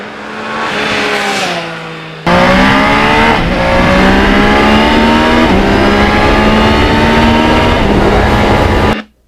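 A 12-year-old Yamaha R1 with a crossplane engine revs hard and loud, a brief climbing burst then a sustained high-pitched roar that holds steady before cutting off abruptly.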